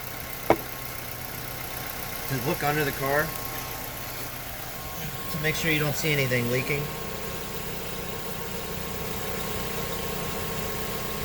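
A used car engine idles with a steady low hum underneath as someone talks over it throughout.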